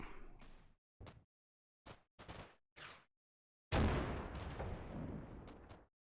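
Artillery fire from the video game Combat Mission: Black Sea: several short, sharp blasts separated by silences, then a longer loud burst of booming explosions that tails off, with no talking.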